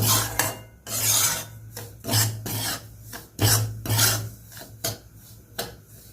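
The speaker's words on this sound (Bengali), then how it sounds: "এইভাবে নাড়তে নাড়তে ভাজতে থাকবে। কম আঁচে একটুখানি হালকা ভেজে নেব।" A spoon scrapes and stirs semolina as it roasts dry over low heat in a pan. The strokes come in repeated raspy bursts, close and fairly loud, with no voices.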